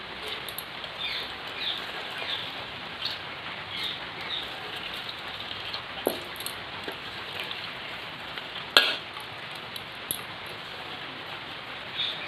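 Washed lentils being strained with their water, a continuous soft patter of draining water like light rain, with scattered small drips and taps, close and fairly quiet.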